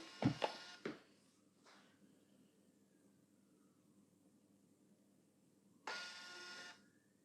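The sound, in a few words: label printer printing labels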